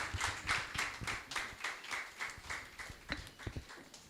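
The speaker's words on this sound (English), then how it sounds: "give a warm round of applause for Mr. James Ogolua" Audience at a book launch gives a round of applause, a quiet, fairly distant patter of clapping hands with uneven bursts throughout.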